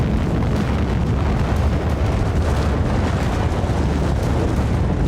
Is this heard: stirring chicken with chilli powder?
no